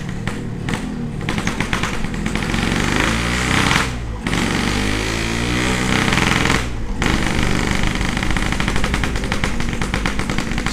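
Yamaha RX-King two-stroke motorcycle with a loud, perforated half-racing exhaust revving hard close by, a dense crackling blare with two brief throttle dips, running continuously and alone.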